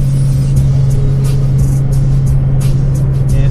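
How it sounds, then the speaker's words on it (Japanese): A car descends a steep road in Los Angeles using engine braking, its steady loud engine drone and road rumble continuous throughout, with faint brief rattles above and no talking. "結構勾配が急なのでエンジンブレーキ使いながら下っております"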